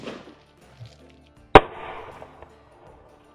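A single sharp gunshot from a CCW Glass Cannon pistol firing a hunting round, loud and close, cracking once and then dying away.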